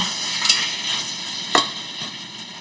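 Seasoned oxtail pieces sear in hot oil with a constant close sizzle, broken by two brief clicks of a utensil against the pan, and no voices.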